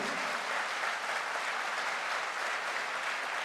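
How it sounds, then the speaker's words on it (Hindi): An audience at a direct selling success event breaks into steady, sustained applause, a dense wash of many hands clapping at moderate distance, unbroken and without speech. "जबरदस्त तालियां बजा दीजिए, हाथ ऊपर करके तालियां बजा दीजिए।"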